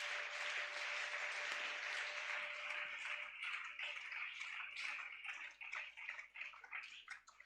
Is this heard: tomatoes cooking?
no